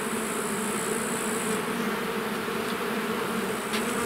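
Honeybees buzzing around an open beehive during honey harvest, a dense, continuous close-up hum of many insects at steady loudness with no speech.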